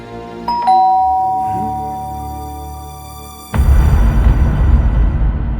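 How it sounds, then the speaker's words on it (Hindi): A doorbell in a Hindi-dubbed sci-fi thriller film gives a bright chime that rings out and slowly fades over a few seconds, then loud noisy background sound cuts in abruptly. "अब डोर बेल बजेगी"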